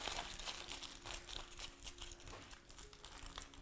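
Tin foil crumpled and rolled by hand into a small bean-shaped foot for a foil figure, giving a dense, continuous crinkling and rustling close by, with no talking.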